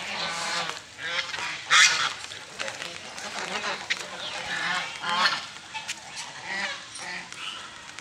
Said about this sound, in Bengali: রাজহাঁসদের খেলা ভালোই হচ্ছে, তারা আনন্দ করে পানিতে খেলা করে বেড়াচ্ছে।